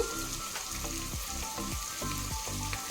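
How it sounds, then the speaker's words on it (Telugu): Onions, green chillies and curry leaves sizzle steadily in hot oil for an Andhra-style mutton curry, a close, continuous frying hiss with faint crackles and no voices. "ఆనియన్స్ అయితే ఫ్రై అవుతున్నాయి కదండి"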